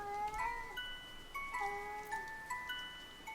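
A cat meows repeatedly in a quiet indoor setting, its drawn-out, wavering calls rising and falling in a series of close, moderately loud cries with no talk over them.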